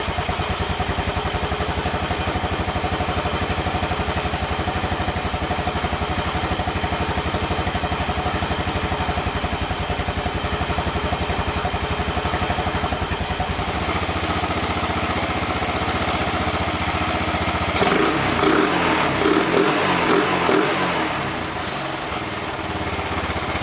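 The engine of an old Honda three-wheeler idles continuously and loudly after its idle screw is adjusted, a steady rough putter that shifts and rises partway through, later joined by clattering, uneven mechanical knocking.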